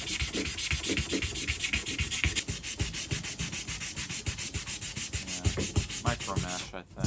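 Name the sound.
sanding with a sanding pad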